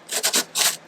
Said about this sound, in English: I'll take the sanding paper and the pipe, and then I can go this way